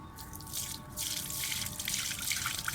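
Water pours and drips through a large sieve as used tea leaves are strained after a third rinse, a steady close trickle with scattered drops and no talk.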